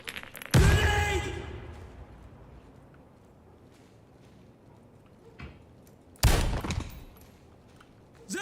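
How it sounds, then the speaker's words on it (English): Gunfire in a shooting video game comes as two loud, sharp bursts several seconds apart, with a fainter single shot between them and low background rumble. "They're shooting at me!"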